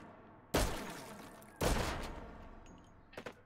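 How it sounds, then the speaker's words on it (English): A semi-automatic shotgun firing in a competitive shooter match, with two loud, sharp blasts about a second apart, each with a decaying tail, then a quick cluster of fainter clicks and shots. "That is a semi-auto shotgun"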